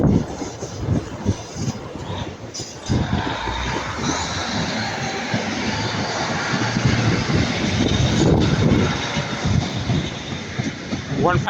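A British Rail Class 156 diesel multiple unit runs past a station at Ardwick, a loud, continuous rumble with rail clatter and wheel noise that holds steady throughout, up close.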